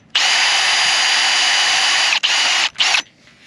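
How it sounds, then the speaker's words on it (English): A power drill bores a pilot hole through fabric and metal louvers, a loud close whine running steadily for about two seconds, then two short bursts before stopping. "it makes it so much nicer if you just drill it first."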